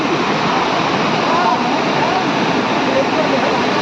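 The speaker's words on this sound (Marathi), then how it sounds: "हे बघा पाणी पण खूप मोठं आलं आहे इकडे" Heavy floodwater from torrential rain rushes in a dense, continuous roar close by, with a faint voice barely audible underneath.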